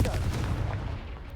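A Confringo blasting spell explodes in Hogwarts Legacy, a dense, booming low burst that rolls out and slowly fades over a second or so, loud and close.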